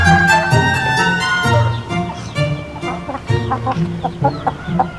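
Chickens, roosters and hens clucking up close in a loud, busy chorus, with sustained calls first and then choppy, rapid clucks overlapping one another.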